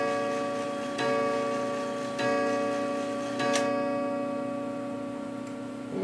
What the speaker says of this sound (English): Now it should chime 4 o'clock at 4 o'clock.